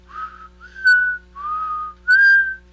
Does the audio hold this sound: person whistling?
yes